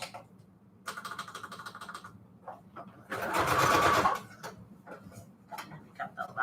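A sewing machine stitches fabric onto manila tags, alternating straight and zigzag stitches: rapid, close mechanical needle chatter runs in short bursts, with one louder, denser run in the middle and soft clicks between.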